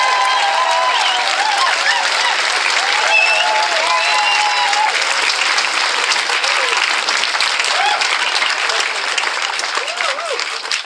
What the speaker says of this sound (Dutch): ik wil geen applaus, ik wil een ovatie voor Chantal Blaak